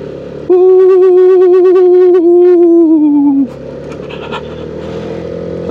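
A Yamaha XMAX 250 scooter climbs a steep road toward a pine forest at Gunung Bunder. Its engine holds a loud, steady droning note for about three seconds, sags slightly, then drops back to a quieter rumble.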